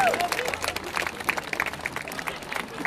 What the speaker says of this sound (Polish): Gdzie są brawa, słuchajcie?